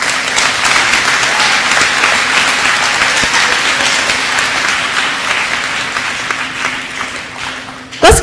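A crowd at an 8th grade promotion ceremony applauds the students with dense, steady clapping that fills the hall, loud and sustained before tapering slightly at the end.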